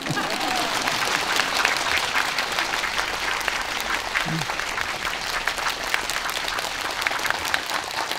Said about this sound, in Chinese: 继续拍手